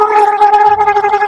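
A man gargles a mouthful of liquid, a loud, bubbling, throaty rattle that runs unbroken and close up for over a second.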